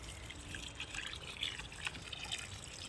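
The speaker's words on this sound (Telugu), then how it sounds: "ఇప్పుడు వాటర్లో కొంచెం ఎప్సమ్ సాల్ట్ కలిపి ఆ వాటర్ని పోస్తున్నాను ఈ మొక్కకి" Water mixed with Epsom salt is poured into a potted plant in a terrace garden, giving a soft, steady trickle and splash with faint drips, quiet and continuous throughout.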